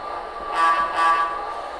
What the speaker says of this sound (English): we're going to have the same air horn on both locomotives